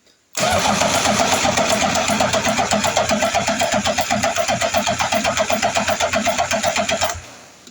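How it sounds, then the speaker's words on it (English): A Triumph Trident T160 motorcycle engine cranks on its starter with the throttle held wide open, a fast, even chugging rhythm that starts abruptly, runs for about seven seconds, then stops. "I'm just going to chug it over on the starter with a wide open throttle"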